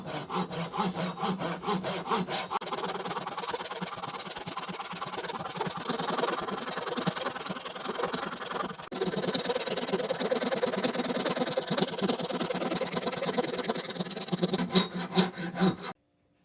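A hand saw cuts a carved wooden hickory shad crankbait lure in two with steady, rasping back-and-forth strokes that stay loud and close for about sixteen seconds.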